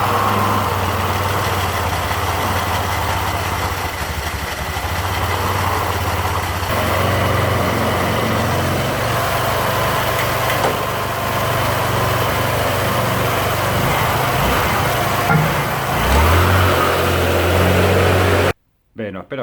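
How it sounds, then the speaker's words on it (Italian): Kymco scooter fitted with a Malossi Multivar 2000 variator, engine running with a steady droning idle and small shifts in pitch, close by, ending abruptly with a short silence. "Adesso metterò in moto lo scooter in modo tale da fare entrare in sede la cinghia."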